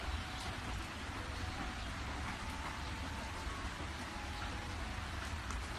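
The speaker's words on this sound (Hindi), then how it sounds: "तभी रास्ते में जोरों की बरसात होने लगती है।" Heavy rain pours down on a road, a dense and even wash of hiss and pattering drops that stays steady throughout, moderately faint, with no voices.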